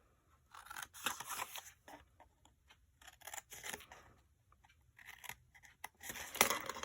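Scissors cut flaps into a paper gift box with a run of quiet, close snips and crisp paper rustles in an irregular rhythm, with no voices.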